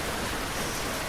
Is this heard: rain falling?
yes